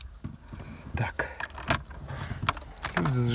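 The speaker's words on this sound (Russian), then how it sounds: "ключ зажигания." Ignition key handled inside a Volkswagen Passat B3: light metallic key jangles and clicks scattered across a few seconds, close and fairly quiet, with a low steady hum rising near the end and soft talk in the cabin.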